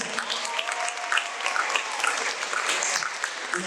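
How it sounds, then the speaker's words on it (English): Sustained applause from an audience at a high school event, a dense, steady wash of many hands clapping at moderate loudness throughout with no pauses. "A big round of applause."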